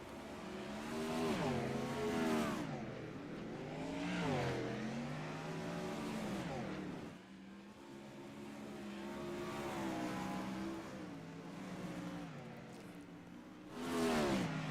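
Race cars lap a track during a practice session, their engines swelling and fading in loud revving passes one after another, with pitch sweeping as each car goes by.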